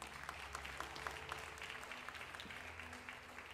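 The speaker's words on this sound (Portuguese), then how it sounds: "Você pode dar mais uma salva de palmas ao Senhor?" A church congregation applauds during a worship service, a steady, fairly quiet wash of clapping that holds evenly throughout with no voices over it.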